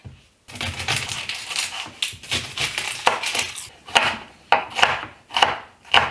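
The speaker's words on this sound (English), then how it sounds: "So I want to cut up my onion, garlic, carrots, and celery first." A knife chops onion, garlic, carrots and celery for a lentil soup with ham: a close, steady run of sharp, crisp strokes, loud and alone, some in quick bursts and others spaced apart.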